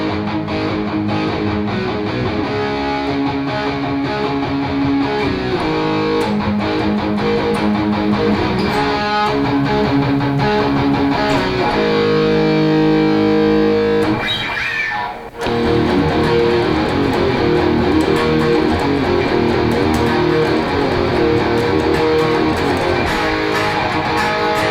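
An Epiphone 58 Korina Explorer electric guitar played through an Engl amp's distorted gain channel rings out loud and close, with heavy sustained chords and riffs, a brief drop near the middle, then continued crunchy playing with no talk.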